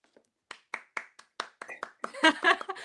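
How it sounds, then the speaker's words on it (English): One person claps hands in a series of distinct, irregular claps close by, which give way to a voice speaking. "I'm clapping for the audience, right?"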